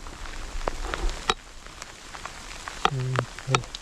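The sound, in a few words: heavy rain falling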